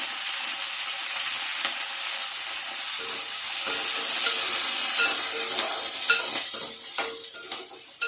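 Curry leaves sizzling and being stirred in a frying pan, a bright steady crackling hiss with scattered spatula scrapes and pops, growing busier toward the end, without talk.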